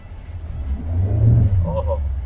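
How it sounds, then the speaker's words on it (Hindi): A Tata Safari SUV with a manual gearbox pulls away on a test drive, its engine rumble rising steadily and staying loud from near inside the cabin, with a brief exclamation from occupants over it. "जी गाड़ी को चला के देखें। जी, तो हम स्टार्ट कर रहे हैं अभी।"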